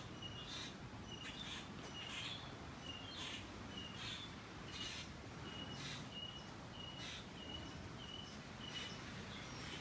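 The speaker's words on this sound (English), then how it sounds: "You can hear them though in the background chirping." Small birds chirp repeatedly in the background along a beach in North Naples, Florida, their short high calls recurring at a steady pace over a constant wash of surf and wind.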